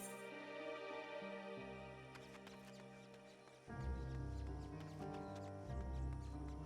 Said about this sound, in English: The footstep sound is in fact present.